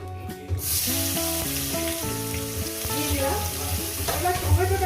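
Cumin seeds and tomato hit hot oil for a fish curry, setting off a sudden loud sizzle after a quiet start that holds steady and close, with music playing underneath.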